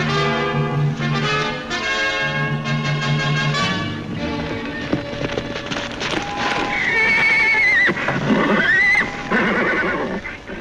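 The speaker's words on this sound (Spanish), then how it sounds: "Parece el caballo del sargento Preston." A horse whinnies loudly several times in a 1950s Sergeant Preston TV episode, shrill rising neighs with faint hoof clip-clop and background music.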